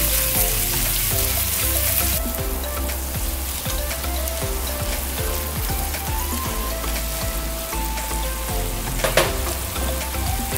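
Corned beef stir-fries in a hot pan, sizzling and crackling steadily throughout, with clinks and scrapes of stirring mixed into the continuous frying hiss.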